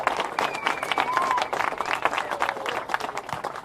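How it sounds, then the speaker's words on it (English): A community-center audience claps in a steady, moderately loud patter of many hands, with some crowd murmur and a faint whistle mixed in, continuing throughout. "can we have a round of applause for this amazing person?"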